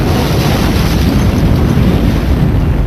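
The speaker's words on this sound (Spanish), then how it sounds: "Junto con los ingenieros expusimos aquel modelo de ventana a una explosión para saber si se comportaba según se diseñó." A blast test on a window model for the Pentagon, heard as a continuous heavy low rumble with broadband roar, loud and sustained without distinct separate bangs.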